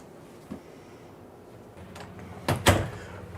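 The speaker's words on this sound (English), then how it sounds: "with our Irvine anti-slam door" An anti-slam walk-in shower door in a 2023 Forest River Vibe 28RL RV bathroom slides shut, ending in a pair of close, muffled knocks after a faint earlier click.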